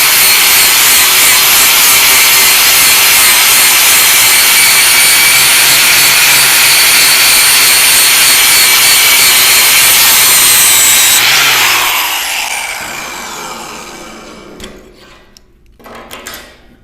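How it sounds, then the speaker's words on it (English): An angle grinder grinds a steel workpiece to prep it for welding, a loud, steady abrasive whine that runs continuously for about eleven seconds, then spins down and fades into quieter scraping and clanks. "Even if I had to grind this whole piece, it wouldn't have taken me very long."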